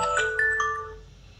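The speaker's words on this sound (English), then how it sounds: "I can also snooze the alarm by just saying snooze." Samsung phone alarm ringing, a bright electronic chime of sustained tones that fades toward the end, heard alone.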